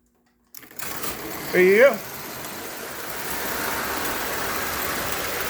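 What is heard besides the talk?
American Flyer toy train locomotive running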